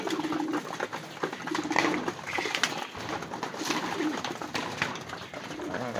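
Racing pigeons coo softly while feeding on red rice in a loft. Their low, rolling calls overlap in a continuous murmur from several birds nearby, with faint scratching and pecking underneath.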